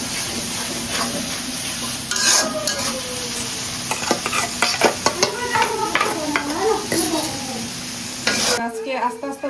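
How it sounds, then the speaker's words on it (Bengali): Potatoes for a meat-and-potato curry fry in a pan while a utensil stirs and scrapes through them, a continuous close sizzle broken by repeated clattering strokes against the pan until it stops abruptly. "না কড়া ভাজি করতেছি"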